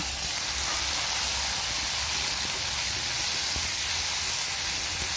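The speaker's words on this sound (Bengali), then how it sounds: "পেঁয়াজ কুচিটা একটু ভাজা ভাজা হয়ে এলে তার মধ্যে দিয়ে দিলাম টুকরো করা টমেটো আর কাঁচা লঙ্কা চেরা" Chopped tomato and slit green chillies hit frying chopped onions in a pan, giving a continuous, loud, even hiss of sizzling oil that holds steady without breaks.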